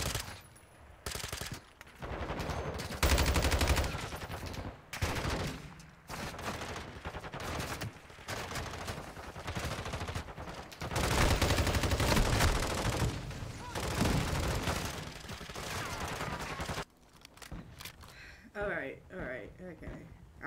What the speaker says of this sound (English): Okay, where is the bullets coming from?